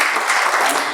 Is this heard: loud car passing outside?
no